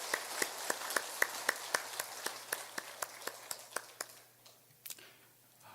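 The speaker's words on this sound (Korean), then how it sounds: "박수 한번 하겠습니다" A church congregation claps in steady unison, a quiet, even beat of sharp claps several times a second that loosens and fades toward the end.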